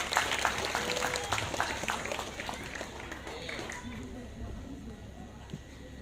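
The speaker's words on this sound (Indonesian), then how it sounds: "Tepuk tangan yang meriah." An audience at a provincial santri competition final in Lampung applauds, a steady wash of clapping kept fairly distant and soft, with voices murmuring underneath as it slowly tapers.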